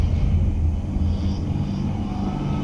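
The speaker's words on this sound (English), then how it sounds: "Liftoff of Falcon 9, the world's first reflight of a world-class rocket." A SpaceX Falcon 9 rocket lifting off, a loud, steady, dense roar with deep rumbling that holds at full strength without a break.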